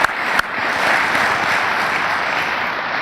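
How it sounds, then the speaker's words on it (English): A conference audience gives a sustained round of applause. Dense, even clapping from a sizable crowd fills the room and holds steady throughout. "I would like us to give those two a round of applause."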